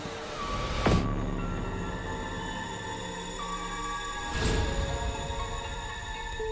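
A train rolls past on the rails, giving a steady rumbling, clattering drone with high ringing squeal-like tones and two sharp clanks, near and continuous, with no voices.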